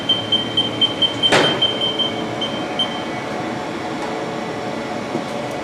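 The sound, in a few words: Haas VF-2SS machining center spindle running at 4000 RPM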